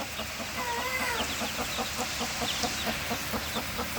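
A hen with her eight hatched chicks on a farm, rhythmic close clucking repeating steadily along with thin high chick peeps over a constant outdoor background.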